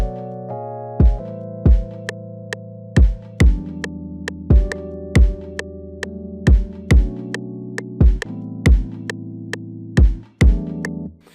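A hip hop beat with a steady pattern of punchy kicks under sustained acoustic guitar and keys chords, playing loud and up close with a smooth, relaxed bounce and no talking.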